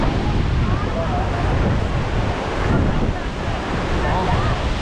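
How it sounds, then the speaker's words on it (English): Strong wind roaring partway up Lion Rock at Sigiriya in Sri Lanka, a loud continuous buffeting rush battering the microphone with surging gusts throughout. "It's too windy."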